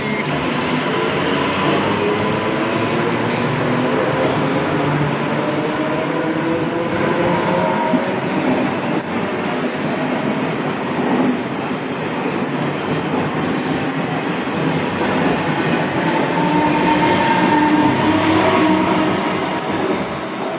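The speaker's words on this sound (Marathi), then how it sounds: "ट्रेन चालली." A moving train rumbles steadily and loudly from start to finish, with a continuous rattling hum and occasional clacking, heard from close by.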